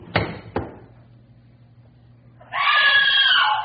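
A woman's shrill scream in a radio drama, loud and sustained for about a second, following two sharp knocks or door thuds over a low background hum.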